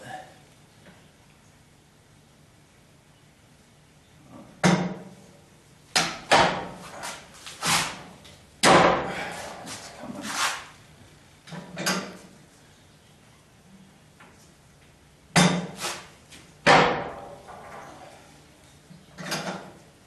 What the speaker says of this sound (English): I should grab that blow hammer or rubber hammer, rubber mallet